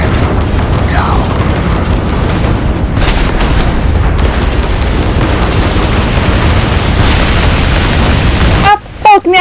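Heavy booms and bursts of spaceship combat gunfire fill a space battle in the video game Starfield, loud and continuous, with a short pause near the end.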